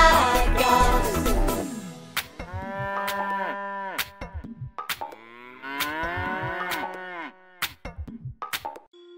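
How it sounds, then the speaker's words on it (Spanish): Cows mooing as a sound effect in a children's song: a short burst of music gives way to a string of long, drawn-out moos, one after another, loud and close with brief gaps between them. "Hacen mu las vacas, moviendo sus colas."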